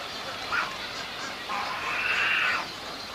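Boobies call in a nesting colony on the Sea of Cortez, Baja, giving a short honk followed by a longer, rough, drawn-out call over a steady wash of wind or surf.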